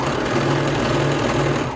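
A sewing machine runs at a steady, rapid whir close by while stitching a rolled swimsuit belt, loud and continuous.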